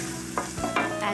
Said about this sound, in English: Stir this through until it's fragrant.